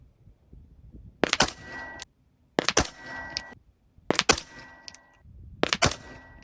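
Four sharp gunshots from a Daniel Defense DDM4 PDW rifle fired at long-range targets, spaced more than a second apart, each loud crack trailing a short echo across an open range.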